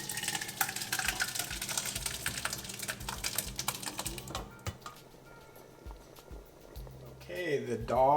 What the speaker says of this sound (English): the dal and the chole have been boiling for about 15 minutes